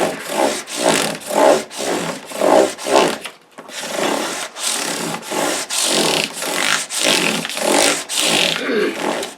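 Rhythmic back-and-forth sanding strokes of 600 grit sandpaper on a Les Paul guitar, about a dozen loud, close rasping passes with a brief pause partway through, no talking.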